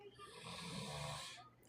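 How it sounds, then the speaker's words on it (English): A dog snoring in a living room, a single drawn-out rasping breath, faint and steady, heard alone without talk. "That's why you always hear him snoring in the background."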